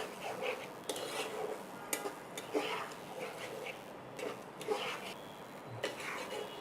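A utensil stirs tomato paste in a frying pan while cooking a Bengali rui fish bhuna, giving close, irregular scrapes and light metallic taps that repeat every second or so.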